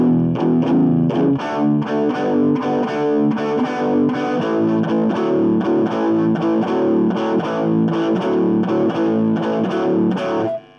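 Distorted electric guitar plays the closing four bars of a 12-bar blues, a continuous run of chunky, rhythmic riffs at steady volume that cut off abruptly at the end.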